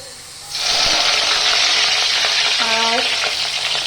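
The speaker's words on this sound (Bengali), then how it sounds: "তো পেঁয়াজগুলো আগে ফার্স্টে ছেড়ে দেবো।" Onions sizzle loudly as they hit hot mustard and refined oil for fried rice, a sharp burst of frying starting about half a second in and crackling steadily close by, with a brief clink of a utensil near the end.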